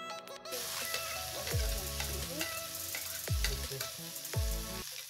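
Chopped onion frying in oil with black cumin and bay leaf, a loud continuous sizzle close by, broken by several deep stirring thumps and scrapes.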